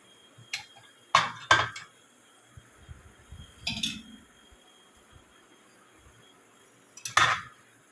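Idli plates and dishes clatter into the racks of a Midea Torrino dishwasher, several sharp metallic clinks and clanks in bursts with quiet gaps between, close and fairly loud.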